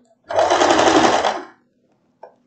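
A sewing machine stitching a floral wrap dress runs in one loud, close burst of about a second and a quarter, then stops, followed by a short faint click.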